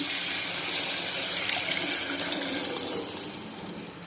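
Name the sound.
boiled chickpeas with water poured into pan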